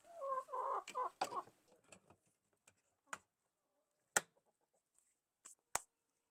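Chickens at an automatic self-serving feeder cluck softly and briefly at first, followed by sparse, sharp pecks and taps against the feeder in a quiet setting.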